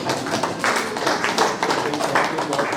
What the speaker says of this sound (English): Please clap for OOU.